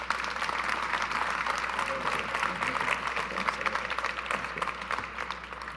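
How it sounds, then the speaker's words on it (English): The audience at the Gagliardi Trophy presentation applauds for Michael Bates, an even, sustained wash of many hands clapping in a large room over a steady low hum. "a round of applause for Michael Bates."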